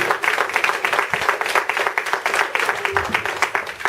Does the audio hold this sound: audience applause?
yes